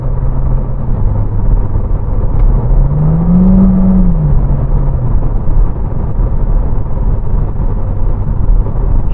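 Renault Clio RS Trophy with a 1.6 turbo engine and EDC dual-clutch gearbox, heard from inside as a loud, steady engine drone that briefly rises in pitch and falls back as the gearbox downshifts.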